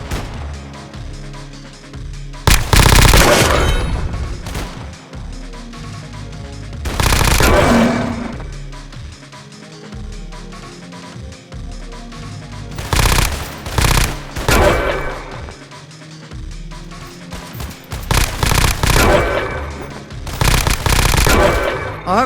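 Bursts of rapid automatic gunfire from a weapon in an Unreal Engine 5 first-person shooter game, loud and close, fired in several long volleys separated by short pauses.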